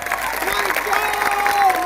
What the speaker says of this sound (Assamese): কৰি এটা হাত চাপৰি বজাই দিয়ক